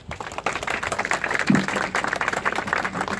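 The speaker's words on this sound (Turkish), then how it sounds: "Şöyle kendinizi bir alkışlar mısınız lütfen?" A crowd applauds steadily at a tree-planting ceremony at a courthouse in Kartal, Istanbul, dense clapping from many hands filling the room for the whole stretch.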